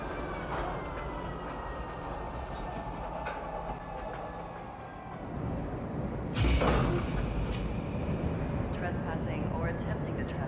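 A metro train in the video game Star Citizen rumbles steadily along the track, with a sharp hiss of air brakes partway through over continuous low mechanical drone, while a voice speaks over it.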